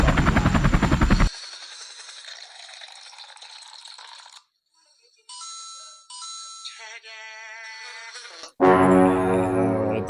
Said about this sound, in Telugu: హెలికాప్టర్